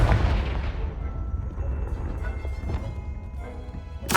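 Fiery explosion from the Confringo fire spell in Hogwarts Legacy, a loud booming blast that rumbles and decays over several seconds, with a second sharp burst right at the end.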